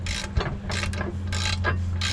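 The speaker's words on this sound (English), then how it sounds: "That noise you hear in the background is my neighbor, the bobcat." A neighbor's Bobcat T590 loader works in the background, a steady low engine drone under rhythmic mechanical clanking and grinding bursts.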